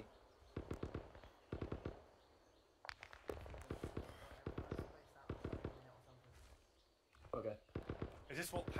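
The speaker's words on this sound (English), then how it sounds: "just gunfire everywhere" Bursts of rapid gunfire in the video game ArmA 3 (S.O.G. Prairie Fire) crackle in quick volleys, loud and close, with short pauses between strings of shots and a few sharper pops near the end.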